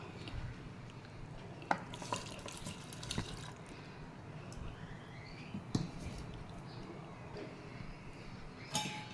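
Water drains from soaked, washed basmati rice for veg pulao in a home kitchen, a steady running trickle with occasional drips and small clatters, moderately close, with no talk.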